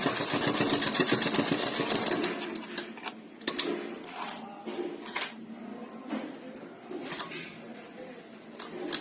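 A sewing machine runs in bursts while stitching a sleeve, its close mechanical whir broken by short pauses and clicks. No one speaks.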